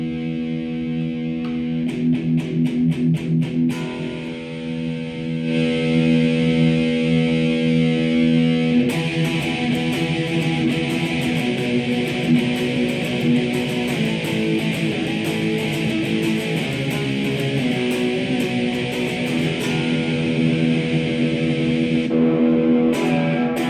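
Fake Gibson ES-333 electric guitar played through distortion and reverb, strummed chords ringing out in sustained, loud, fuzzy washes with some muted scratchy strums at the start, no voices.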